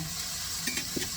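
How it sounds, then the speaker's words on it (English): Bacon frying in a pan for a veal Bolognese gives a steady, close sizzle with a few soft clicks of stirring or pan contact, with no one talking. "I don't want my bacon to burn either, so I'm going to be doing it this way"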